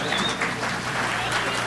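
Audience applause at a Downtown Springfield Inc. annual awards event after a remark by the mayor, a short steady burst of clapping from a crowd with some voices mixed in.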